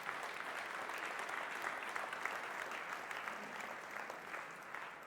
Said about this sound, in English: I would like you to give them a round of applause for the great work they're doing today